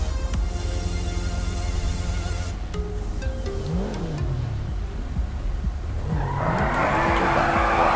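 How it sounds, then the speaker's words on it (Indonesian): A Bentley drives on a short test track at the IIMS 2018 motor show, its engine droning steadily under a noisy exhibition hall, with rising and falling engine pitch and a burst of tire or crowd noise near the end. "kita akan coba aja ya teman-teman mobil Bentley ini"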